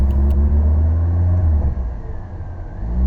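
A Volkswagen Jetta engine idles steadily after a jumpstart, following a no-start that was likely from flooding, with a vacuum hose off. The close, loud low rumble runs throughout and dips slightly partway.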